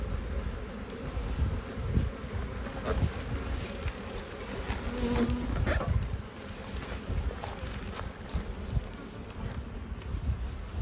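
Honeybees buzzing steadily during a hive split into an Anel hive, a continuous droning swarm hum close to the microphone, with a few brief knocks and handling sounds over it.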